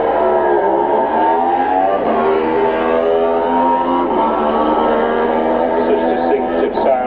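Super Twin racing motorcycles in TT Race 2 at the Isle of Man TT scream past with a steady, loud, high-revving engine drone whose pitch shifts as the machines accelerate and pass.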